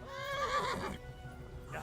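A horse whinnies in the medieval role-playing game Kingdom Come Deliverance, a loud, close, wavering neigh that fades out after about a second.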